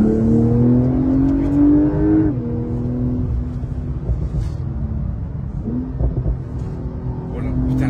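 A Porsche 911 Turbo S accelerating hard on a narrow road: the engine note climbs steeply in pitch, drops at a gear change, and climbs again, heard from inside the car with a voice talking over it.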